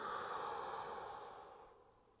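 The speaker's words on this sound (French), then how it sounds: "Expire par la bouche. Encore une profonde inspire. Et profonde expire." A single deep exhale through the mouth during yin yoga: a soft, airy breath that starts steady and gradually fades out over about two seconds, heard close and quiet with no talking.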